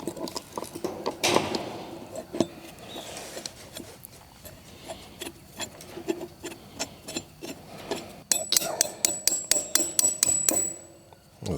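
Hammer blows knock a stuck bottom bolt out of an outdoor garden structure, a series of sharp metallic strikes, scattered at first and then coming in a fast, steady run near the end, close and fairly loud.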